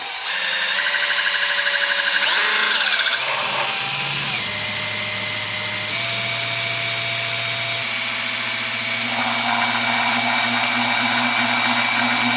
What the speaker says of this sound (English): This is a brushless drill, by the way.